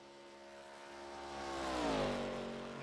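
A race car engine in an ARCA racing video game at Auto Club Speedway drones steadily and rises in pitch as it accelerates, then eases off, loud and close with no talk.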